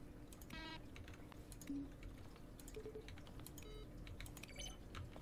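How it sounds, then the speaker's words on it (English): Button presses in The Stanley Parable combine keyboard strokes with synthesized tones, heard as scattered soft clicks and short bright beeps over a quiet steady hum. "Each sound is a mix of a keyboard stroke and a synthesized tone."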